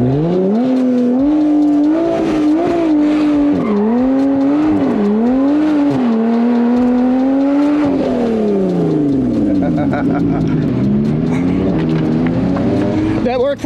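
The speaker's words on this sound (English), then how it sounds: "Do a burnout just for you, right?" A car engine revs hard and continuously through a street burnout and donuts at a rally event, its pitch rising and falling in repeated surges at close range, with voices talking underneath.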